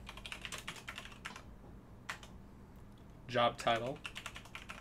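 Quick clattering keystrokes on a computer keyboard while entering photo metadata, fairly faint and close, with a short burst of speech partway through.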